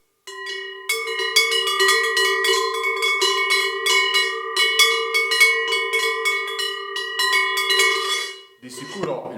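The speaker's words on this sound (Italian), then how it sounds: "Anche queste sono due campane per mucca, sono pesantissime" Two heavy Sardinian cowbells clang close by, a quick run of bright, sustained metallic strikes with rich ringing overtones that stops abruptly near the end, followed by a short, muffled rattle.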